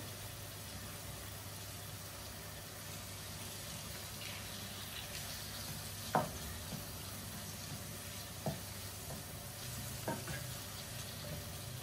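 Shrimp fry in a pan with spices, giving a steady low sizzle throughout, with a few sharp utensil taps and stirring clicks near the middle and end.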